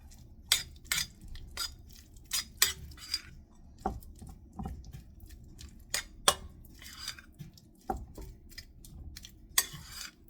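A utensil mixes tomato pie filling with mayo and ground black pepper in a bowl. Irregular, close clinks and scrapes repeat against a quiet background.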